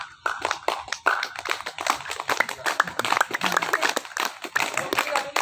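Hand clapping technique from a Gayo didong performance, with a rapid series of sharp, loud claps in uneven rhythmic bursts, close and dense, with voices mixed in.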